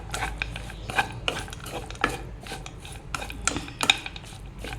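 Spoon scraping and clinking in a bowl while stirring a peanut chaat mixture with squeezed lemon juice, a run of quick irregular clatters close by, no talking.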